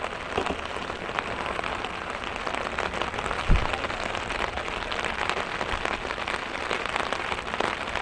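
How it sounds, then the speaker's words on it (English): Heavy rain pours steadily onto an umbrella and surrounding surfaces at an outdoor track, a loud dense hiss with close spattering drops and one brief thump partway through. "as hard as it's raining right now"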